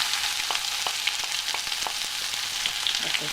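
Mustard seeds sizzle and pop in hot oil during tempering, a continuous bright hiss dotted with scattered sharp crackles, close and alone.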